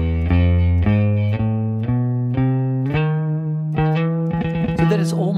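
Electric guitar plays a bright, sustained double harmonic scale, one note after another in steady succession, ending in a quicker flurry of notes.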